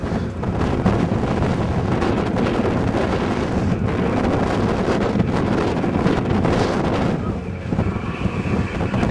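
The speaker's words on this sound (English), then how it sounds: "It's windy and it's cold." Strong, steady wind on the foggy, cold summit of Mount Washington, New Hampshire, roars and buffets against the microphone for the whole stretch, loud and constant with no other clear sounds.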